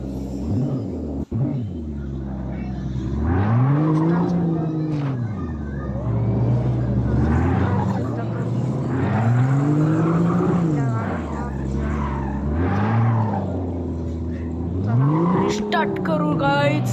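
A video game race car's engine revs rise and fall in repeated sweeps, with tyres squealing and skidding, loud and continuous, and a voice talking over it in places.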